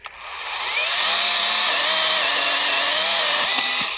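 A GRAND cordless chainsaw cuts through wood close by, its motor spinning up quickly to a loud, steady high whine that holds for several seconds with no talking.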